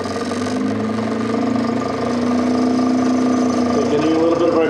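A wood lathe starting at its slowest speed and ramping up while turning a snowman tea light holder, a steady motor hum with a tone that rises gradually and grows slightly louder.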